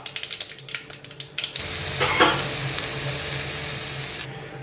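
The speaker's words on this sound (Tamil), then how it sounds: "நல்லா வதங்கின உடனே சொரக்காய் பச்சை வாசனை போடுறதுக்காக நல்லா போட்டு வதக்கலாம்" Bottle gourd sautéing in hot oil with mustard seeds and dried chilli: a run of sharp spattering pops first, then a continuous close sizzle with a stirring scrape, no one talking.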